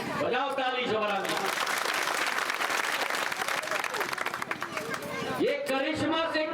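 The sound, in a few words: crowd applauding at an election rally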